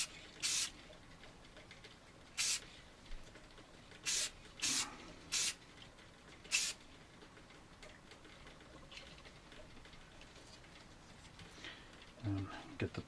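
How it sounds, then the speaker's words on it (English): Short hissing bursts from a spray can laying a gloss paint coat onto an AMT U.S.S. Enterprise model kit, about six quick sprays spaced irregularly across a quiet room, followed by a faint low thump near the end. "you want to spray with more distance"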